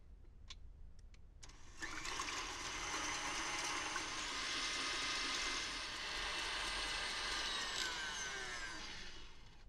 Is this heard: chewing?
no